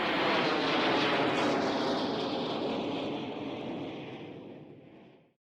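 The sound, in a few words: aeroplane engine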